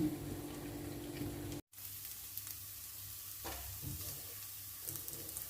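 Snakeskin gourami fish fries in hot oil, a soft steady sizzle with scattered crackles and spits, broken by a sudden brief gap before the hiss resumes, fairly faint and close.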